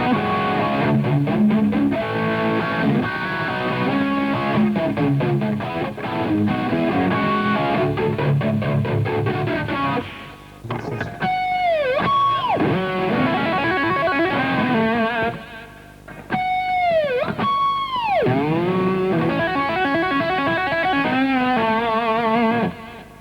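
Electric guitar played through a flanger, with distorted riffing that gives way to sweeping, swooshing tones across several bursts, loud and continuous with no talk.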